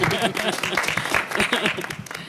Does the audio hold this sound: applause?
yes